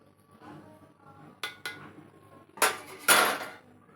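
A spoon stirs ugadi pachadi in a bowl with neem flowers, pepper powder and salt, giving a few light metallic clinks and scrapes that are close and fairly quiet.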